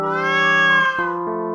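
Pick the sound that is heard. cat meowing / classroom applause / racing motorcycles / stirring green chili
cat meowing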